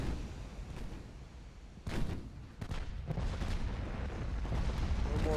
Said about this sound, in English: Get the secondaries firing at that little turd burglar.